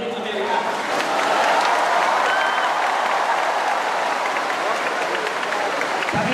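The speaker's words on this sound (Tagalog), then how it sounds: "Sabi po, huwag po kayong pumalakpak at hindi po importante ang palakpak." An audience at a public religious debate between INC and SDA gives loud, sustained applause, a dense wash of many hands clapping continuously throughout.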